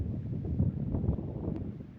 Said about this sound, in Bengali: প্রচুর বাতাস